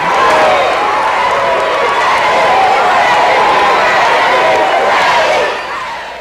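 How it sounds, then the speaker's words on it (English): Crowd at Reggie White's homecoming at Howard High School in Chattanooga, with ticker tape flying, roars in a loud, sustained wash of cheering and clapping that eases off slightly at the end. "the crowd is deafening"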